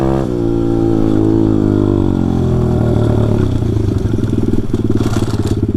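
A pit bike engine drones loudly and steadily, its pitch dropping as the rear tire locks up, followed by a rough, fluttering rumble near the end.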